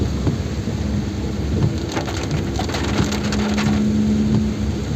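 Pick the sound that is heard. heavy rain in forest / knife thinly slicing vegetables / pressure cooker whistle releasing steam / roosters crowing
heavy rain in forest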